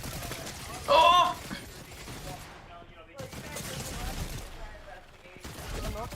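Bursts of gunfire in a Fortnite-style shooter, several clustered rattling volleys with short pauses between, one loud crack early on, mixed with game effects and a few brief exclamations.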